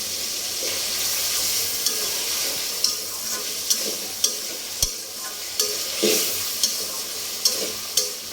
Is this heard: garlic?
yes